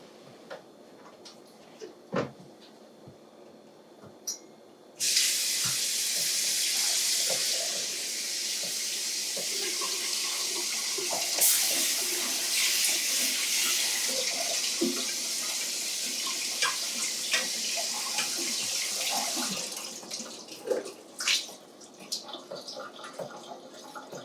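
Potatoes are washed in a kitchen sink: a faucet opens with a sudden steady hiss of running water that continues for about fifteen seconds amid small clunks and splashes, then shuts off, followed by light handling knocks.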